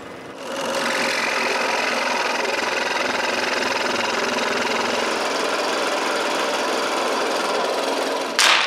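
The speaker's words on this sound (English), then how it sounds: "When I have enough, I cut them out of the piece of wood and split them in two." A power tool cuts wooden biscuits for joinery out of a piece of wood, a loud, steady high-pitched whine and rasp running continuously for several seconds before a brief clatter at the end.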